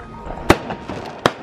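Two sharp firework bangs burst a short way off, under a second apart, on arrival in Albania, with a faint crackle and low background noise between them.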